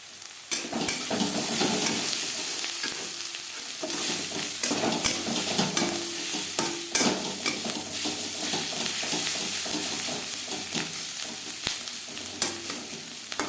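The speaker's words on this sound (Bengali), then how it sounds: "পেঁয়াজ লালচে করে ভেজে নেব" Chopped onions fry in hot oil with a pinch of red chilli powder and turmeric, a steady close sizzle broken by repeated scraping and clinking stirs of a spoon against the pan throughout.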